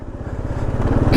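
A Kawasaki KLR650 single-cylinder motorcycle chugs along in first gear, its engine a steady, close, loping putter that builds slightly as the bike pulls.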